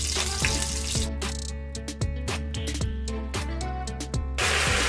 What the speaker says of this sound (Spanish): Vamos a empezar a agregar la carne para que se empiece a sellar.